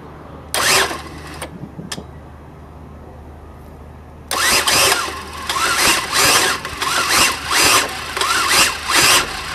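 A motorbike engine is cranked by its starter on a jump battery, with two short bursts, then a longer run of rhythmic, labouring cranking that surges and falls repeatedly without catching, loud and close.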